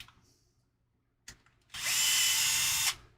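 A power tool threads a bolt into a Sparc axle on an RC crawler. After a short clack, it whirs in one steady, loud burst of just over a second, then stops abruptly.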